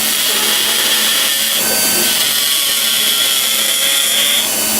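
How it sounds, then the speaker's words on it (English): A dental finishing burr trims a custom tray for an edentulous patient, giving a loud continuous high-pitched whine with steady grinding throughout and no speech. "I'm going to switch to the finishing burr"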